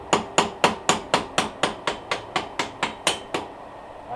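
Steady hammering on a RideTech front coilover install, about fourteen evenly spaced sharp strikes over four seconds, close and loud with quick decays and no talking.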